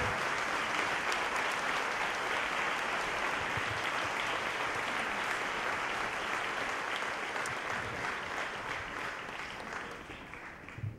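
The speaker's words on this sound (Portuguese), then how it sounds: "Podemos aplaudir o Senhor?" Sustained applause from a church congregation during a 2005 apostolic retreat service in São Vicente, steady and dense throughout, tapering slightly near the end.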